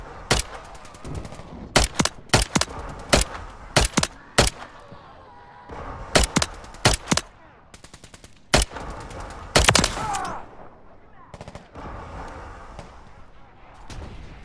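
Call of Duty Zombies gunfire: loud, sharp shots and short automatic bursts come in irregular clusters over a rumbling game background, with faint voices now and then.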